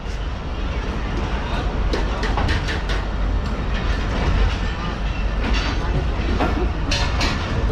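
Pakistan Express passenger train running at speed between Multan and Karachi, heard from inside: continuous rumbling roar with rhythmic clatter of wheels on rail joints, steady and close throughout.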